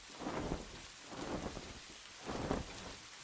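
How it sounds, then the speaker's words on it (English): Steady rain falls alongside rolling thunder, with low rumbles swelling three times over a constant patter, and no voices. "the soothing sound of the rain"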